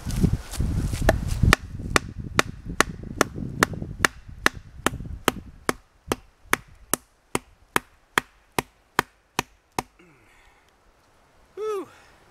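Primal Edge Woodsman's School knife batoned through a piece of poplar wood, a steady run of about twenty sharp, evenly spaced knocks, with rustling and a sigh early on and a voice near the end.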